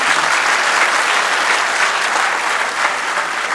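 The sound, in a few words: audience applause at poetry event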